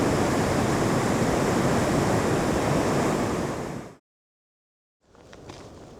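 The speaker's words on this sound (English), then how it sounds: "And there the river makes its exit into Lake Superior." River rushing out into Lake Superior during spring runoff on the North Shore, a loud, dense, steady roar of water that cuts out abruptly partway and then returns more softly.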